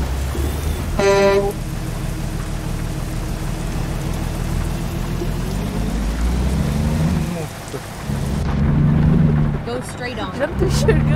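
Heavy rain falls in the video game American Truck Simulator during a truck drive, a dense continuous hiss with low engine rumble beneath, while someone talks over it and a brief chime sounds early on.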